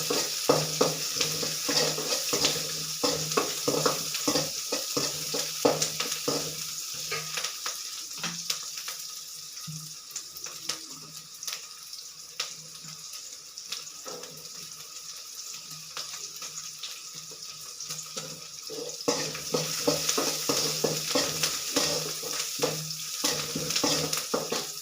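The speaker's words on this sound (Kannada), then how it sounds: "ಚೆನ್ನಾಗಿ ಫ್ರೈ ಆಗಲಿ ಈರುಳ್ಳಿ, ಬೆಳ್ಳುಳ್ಳಿ." Garlic and onion fry in a pan with a steady hiss and crackle, broken by repeated stirring scrapes, loud and close, with the sizzle easing midway and swelling again near the end.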